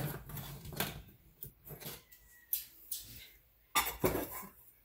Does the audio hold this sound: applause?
no